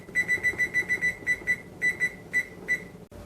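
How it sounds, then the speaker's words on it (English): A kitchen timer being set to 25 minutes while baking banana bread gives about a dozen short, sharp beeps in an uneven quick run, close and clear against quiet room noise. "So I'm going to set my timer to 25 minutes."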